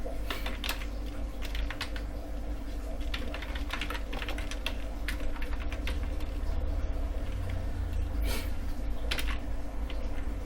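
Someone types steadily on a computer keyboard, close-up clicks in quick uneven bursts over a low constant hum, no talking.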